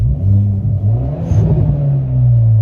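A Hyundai Veloster N engine revs with a deep rumble that holds steady and loud throughout, a continuous low drone with slight swells in level, close by.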